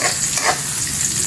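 Onions sauté in a pan for ginataang kalabasa, giving a steady, close, loud sizzle with no voices.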